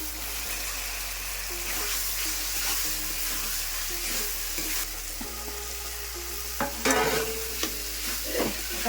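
Boiled potatoes are stirred and sautéed in spiced masala for aloo dum, giving a constant close sizzle with intermittent scraping and clinking of the spoon against the pan.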